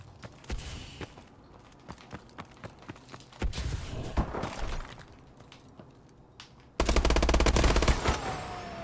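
Automatic weapon fire in the Call of Duty Advanced Warfare video game: repeated sharp bursts and single shots, close and loud, building to a dense sustained volley near the end.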